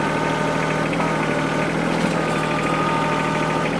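A loader works at maximum lift with cheap clamp-on bucket forks, its engine droning steadily under load and its hydraulics holding a strained, constant whine, loud and close throughout.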